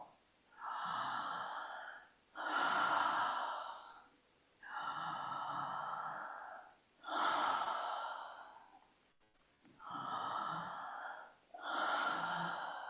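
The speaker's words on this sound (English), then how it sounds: "Charging the breath, lifting up and exhaling" Slow, deep breaths during a guided breathing exercise: six long airy inhales and exhales, each lasting about one to two seconds with brief pauses between, close and clear with no talking.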